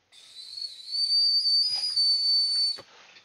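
A shrill, steady whistle is blown hard for nearly three seconds and then cuts off sharply. Its pitch wavers slightly while muffled thumps sound underneath.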